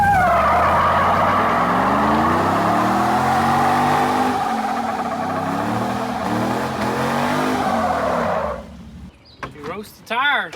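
A car doing a burnout, its engine revving hard for several seconds while the tires spin and skid, loud and close, then cutting off abruptly before someone speaks.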